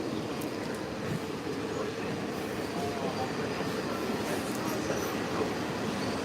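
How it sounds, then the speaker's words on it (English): Walt Disney World monorail riding toward the Contemporary resort, a steady loud rumble of the train car rolling on its beam throughout, with people talking faintly underneath. "I'm just going to the Contemporary, so it'll be a short monorail ride."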